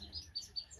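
Young cut-throat finches chirp in a few short, thin tweets spaced across the moment, faint and nearby, with no voices.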